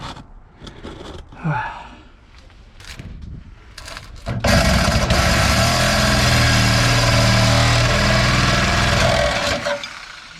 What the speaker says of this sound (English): So broke out the Makita Sawzall. And I'm gonna try to get this bolt cut.